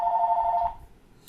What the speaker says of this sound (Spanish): Disculpen por el teléfono, vamos a esperar que deje de sonar.